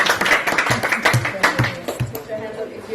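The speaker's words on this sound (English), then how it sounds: "Nice, round of applause." A crowd of primary school pupils in Samoa clapping with a few loud, distinct claps at a fairly even pace, over a background of excited voices.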